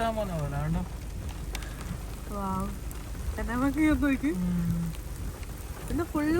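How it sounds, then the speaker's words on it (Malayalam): Rain patters steadily in the background in Finland while people talk nearby over it. "മഴയാണ്"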